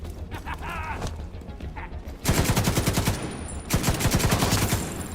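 Rapid machine gun fire in the shooter game Tom Clancy's The Division 2, loud sustained bursts after a quieter stretch with faint sounds, a second burst following a brief pause.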